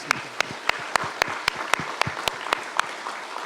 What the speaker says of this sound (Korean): 힘차게 우리 하나님께 영광의 박수를 한번 올려드렸으면 좋겠습니다